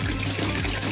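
Water pouring into a small pond built from an old fridge, a continuous splashing, trickling rush like a little waterfall, close and steady throughout with no voices.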